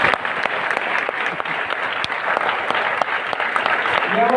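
A crowd claps steadily and densely throughout, sustained applause with sharp individual claps standing out, fairly close and loud.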